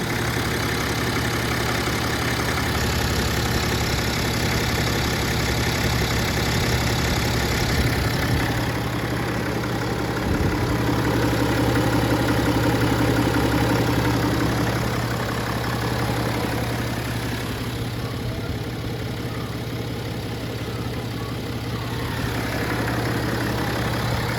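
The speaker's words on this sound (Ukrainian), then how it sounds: "Двигун працює ідеально." A 2012 BMW X5 40d 3.0 diesel engine idles steadily for a long stretch with a low constant hum and faint knocking rattle, close up and unchanging, no talking.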